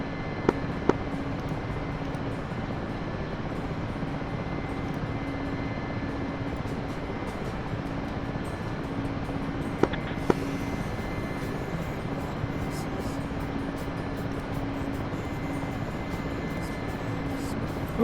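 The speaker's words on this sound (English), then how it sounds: "I'm flying the Mi-8" Mi-8 helicopter in the DCS flight simulator: a constant, dense engine and rotor drone held at an even level the whole time, with a few faint clicks over it.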